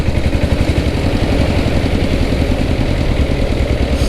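A diesel Bullet motorcycle engine idles nearby with a loud, steady low chugging rhythm, continuous and unchanging throughout.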